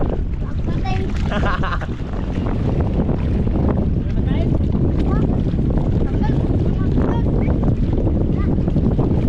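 Strong wind from an approaching typhoon buffeting a fishing boat at sea, a loud, constant rumbling gust blasting the microphone, with people talking over it in places.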